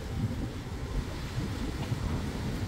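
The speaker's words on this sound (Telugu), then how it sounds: "ఎంత దారుణమైన గాలి వస్తుందో." Strong evening wind gusts around potted bougainvillea plants, making a steady rumbling roar that buffets the microphone, with no voices.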